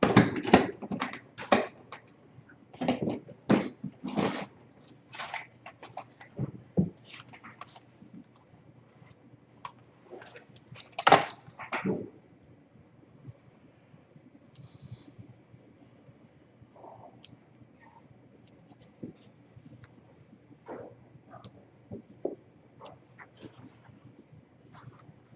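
Corrugated cardboard strips are cut with a blade, giving sharp irregular clicks and scraping ticks, clustered early then sparser and fainter, close-up in a quiet room without talk.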